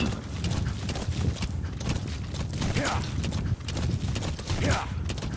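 Steady clip-clop of horse hooves at a trot beneath a constant noisy bed, with faint creaks and a voice talking now and then.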